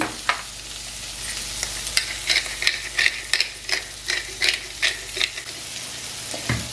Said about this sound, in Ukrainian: Цибулька обсмажилася разом з грибочками.